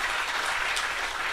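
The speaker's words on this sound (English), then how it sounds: "So I think all the artists to date deserve a big round of applause." Audience applause in a live studio gig setting: a dense, steady wash of clapping that fills the whole brief moment at an even, fairly loud level, with no voices over it.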